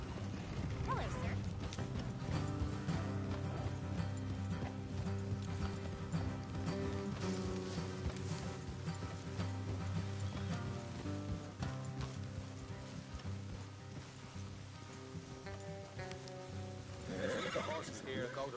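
Horse hooves clip-clop steadily with whinnies and neighs in the video game Red Dead Redemption 2, set against a dense music-like background and occasional voices, fairly loud throughout.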